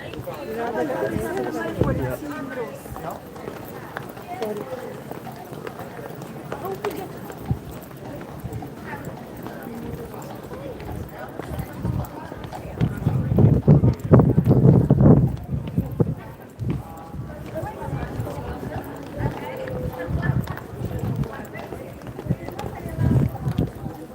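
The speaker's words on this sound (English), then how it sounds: "Look at the horse." Horse hooves clip-clopping on a London street during a royal walking tour, a steady rhythm that swells louder midway as the horse passes close, heard under ongoing talk and crowd noise.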